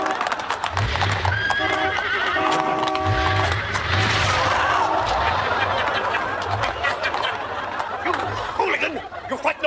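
Horses whinnying and neighing with clip-clopping hooves, continuous and close, a voice occasionally audible beneath the animal sounds.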